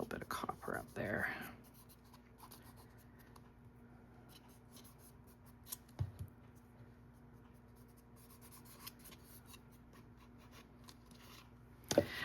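A copper crayon rubs and scratches across a craft surface in short strokes, faint and close, beneath a soft steady hum, while a person talks over part of it.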